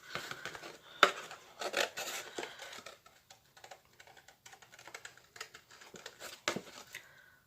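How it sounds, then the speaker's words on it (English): A piece is cut out for a decorative clock craft, giving irregular close snips, clicks and light crinkling rustles at an uneven pace, with short quiet gaps between bursts. "So I'm going to cut this piece out here."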